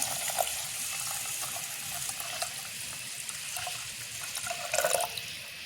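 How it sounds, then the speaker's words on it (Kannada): Strained water is poured into a cooking pot of payasa with chopped garlic, giving a steady, close rushing pour with faint splashy trickles throughout and no voices. "ಇವಾಗ ನಾನು ಸೋಸಿಟ್ಟಿರುವಂತಹ ನೀರನ್ನು ಹಾಕ್ಕೊಳ್ತೇನೆ."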